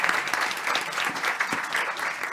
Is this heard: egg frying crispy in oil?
no